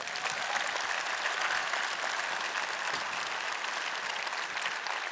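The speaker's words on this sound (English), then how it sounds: "Give them a round of applause, guys." An audience gives a steady round of applause at a personal branding talk, dense continuous clapping filling the room at even loudness throughout, with no voices standing out.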